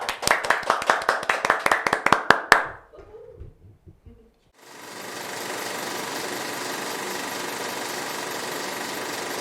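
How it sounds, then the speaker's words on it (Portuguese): A short round of rapid, close hand clapping closes an episode, then breaks off into brief quiet before a steady broadband hiss or rushing noise takes over. "E uma salva de palmas para encerrar."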